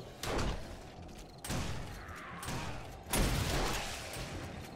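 Shotgun fire in the video game 7 Days To Die (Ravenhearst mod) on horde night, three heavy booming blasts spaced over a few seconds, each trailing into a rumbling decay.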